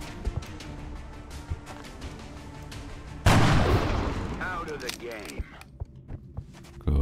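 Gunfire in XCOM Long War, two snipers firing on a distant Seeker: a faint run of soft shots, then a single heavy, booming blast that rings and rumbles away before quiet footsteps and small clicks.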